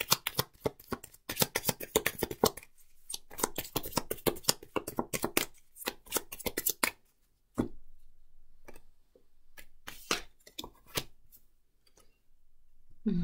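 Oracle and Lenormand cards shuffled by hand at close range, a long run of crisp rapid riffling flutters that thins into scattered slaps and soft draws of single cards, with quiet gaps between.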